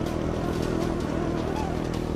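Motorcycle engine running at a steady, continuous drone while the bike's brakes have failed, loud and close, with a voice speaking over it.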